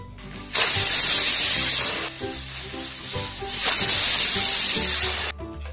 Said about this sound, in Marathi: आता आपण या पाण्याला उकळी आल्याच्या नंतर 3 ते 4 शिट्ट्या काढून घेऊया।